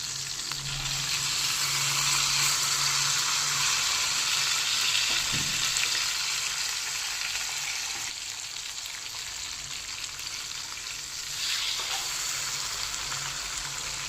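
Fish fries in a pan with curry leaves, giving a loud, steady sizzle throughout, with a brief scrape of the fish being turned partway through and no voices.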